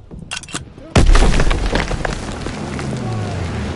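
Bombing explosion in Call of Duty WW2, a single sudden heavy blast near the one-second mark after a few sharp cracks, followed by a long rumbling, crackling decay.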